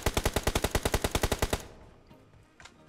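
A loud rapid burst of automatic gunfire in a video game, about fifteen evenly spaced shots firing for a second and a half before stopping abruptly, followed by quiet ambient noise.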